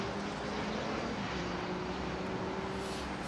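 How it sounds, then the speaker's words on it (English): Steady jet engine roar from a Swiss Airbus A320neo arriving at London Heathrow Airport, a broad continuous rush with faint tonal whine, moderately distant and unbroken throughout. "Nice Swiss 320 Neo."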